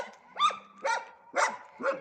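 A dog barks four times in an evenly spaced series, fairly close by and with no other sounds around it.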